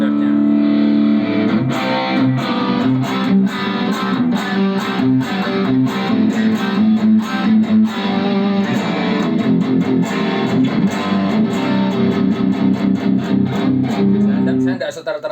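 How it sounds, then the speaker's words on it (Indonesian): An electric guitar runs through a Boss GT-1000 on an overdrive setting with standard reverb, playing a continuous, loud, driven chordal passage with a steady, repeated rhythmic attack throughout. "Yang keempat saya pakai overdrive, tapi Drive 1 namanya."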